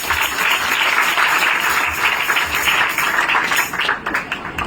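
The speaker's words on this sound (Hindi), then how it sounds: "जोर से ताली बजाएं।" A church congregation claps loudly, a full, dense burst of many hands clapping at close range, sustained and then thinning slightly toward the end.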